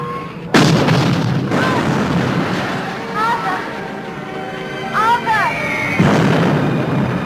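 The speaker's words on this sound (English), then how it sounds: "They're using the big guns now." Heavy artillery fire from big guns during the siege of Peking, deep booming blasts with a low rumbling roar beneath, loud and sustained, while people shout and talk over it.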